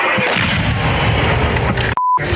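A nearby artillery shell impact on the left bank of the Kherson region near Krynky lands as a loud, sustained blast, cut off abruptly by a short electronic beep near the end.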